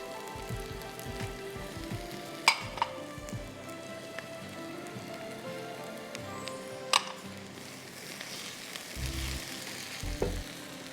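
Ginger and garlic sizzle steadily in a hot pan, a dense crackling fry with a few sharp clinks of a utensil against the pan along the way.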